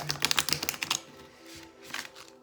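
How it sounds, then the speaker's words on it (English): Tarot cards are riffle-shuffled in a quick crisp flutter of clicks, followed by a few softer card taps, close and fairly quiet. "it still gives a pretty sticky shuffle"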